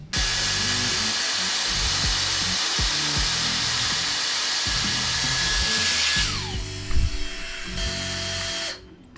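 A Dyson Airstrait hair dryer straightener runs as a loud, steady whoosh with a high whine for about six seconds, then its pitch drops and the airflow continues more weakly before cutting off near the end.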